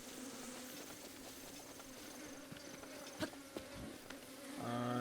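Bees in Breath of the Wild swarm around a beehive, a steady droning buzz lasting throughout, with a few soft clicks and a tonal rise near the end.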